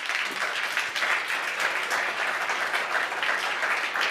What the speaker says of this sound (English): If you'd like to applause, you can.